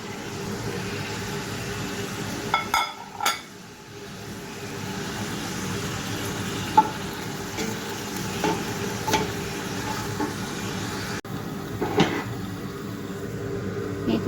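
Mutton for Arabic-style biryani frying with spices as it is stirred, a continuous sizzle broken by scrapes and clanks of a spoon against the pot, close, with no speech.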